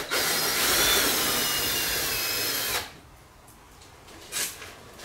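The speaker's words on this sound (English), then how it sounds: "So just pulling off these screws and the bottom should come right off." A power drill or driver whines steadily as it backs screws out of the bottom of a camper's canvas, running loud for nearly three seconds, then stopping, followed by a quieter short buzz.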